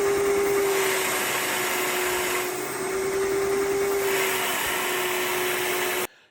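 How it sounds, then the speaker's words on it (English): A Ridgid 6.5 peak horsepower shop vac runs loud and steady under heavy suction, its motor tone wavering and surging slightly as the airflow strains, then cutting off abruptly at the end. "it's sucking so hard through that it makes the vacuum kind of surge a little bit"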